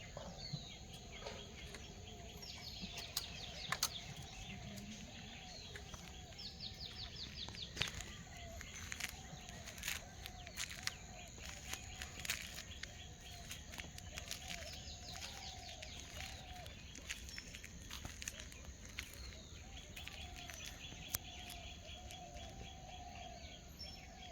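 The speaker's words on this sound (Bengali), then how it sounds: "শান্ত পরিবেশ, পাখির আওয়াজ আসছে।" Birds call and chirp outdoors on a calm morning among reed beds beside a pond, with repeated short chirps and some insect buzzing over a steady low background, no talk.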